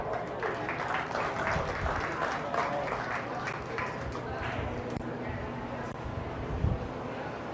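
Audience applause ringing out at a county fair sheep and goat show arena, a steady patter of clapping sustained throughout with some background crowd noise and livestock movement mixed in.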